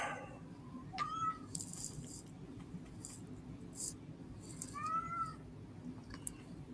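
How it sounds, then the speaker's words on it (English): A cat meows indoors, two clear rising-falling calls several seconds apart, fairly close but not loud, against a quiet room background. "No, you can't be on the show, Kitty. Be quiet."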